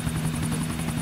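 A helicopter in GTA IV drones close and loud, its rotor beating in a fast, even pulse throughout.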